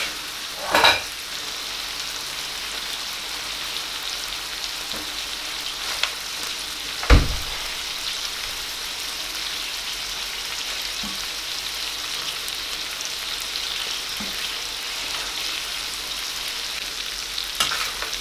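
Tomatoes crushed and stirred into a hot karahi, a steady sizzle of frying running throughout with a few sharper scrapes and knocks of the spoon near the start and middle.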